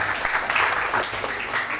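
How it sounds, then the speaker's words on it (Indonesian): Students applaud a classmate during a school legal-awareness session, a short, dense round of clapping from a nearby group in a reverberant room. "Tepuk tangan dulu buat temennya."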